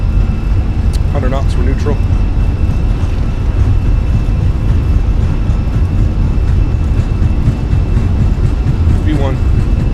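Airbus A320 jet engines at takeoff power in a flight simulator, a loud, steady roar throughout, while a person speaks briefly over it.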